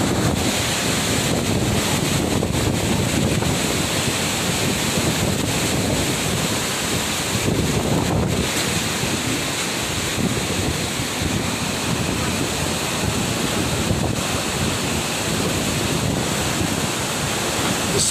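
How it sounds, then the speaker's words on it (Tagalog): Very strong wind roars and buffets steadily through the whole stretch, with heavy gusting rumble and broadband rushing, close and loud, among coconut palms on a roadside where motorcyclists have pulled over. "Napakalakas na itong hangin na to."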